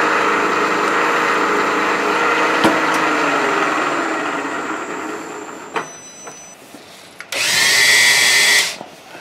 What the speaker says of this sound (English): use a little spotting drill here